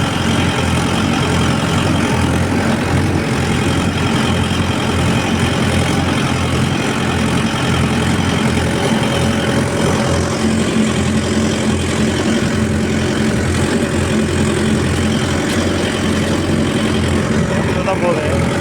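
A vehicle engine idles while running on M2, shaking as it sits, with a loud, steady low rumble and rough texture throughout and no breaks.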